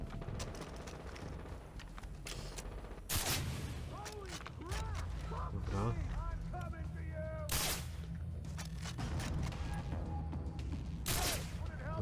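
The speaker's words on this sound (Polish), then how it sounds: "słyszymy tutaj strzały" Repeated gunshots crack out in Far Cry 3 amid game-style sound effects and a constant low rumble, with bursts scattered throughout.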